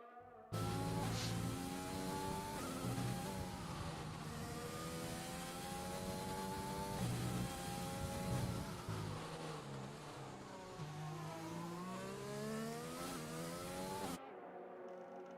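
A race car engine lapping a circuit, its harmonic note climbing and falling through gear changes and steady revving throughout, with no voices over it.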